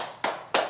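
Two sharp hand claps, spaced about a third of a second apart, stand alone with no voices. They are close and crisp and belong to a rhythmic clapping chant about children's rights.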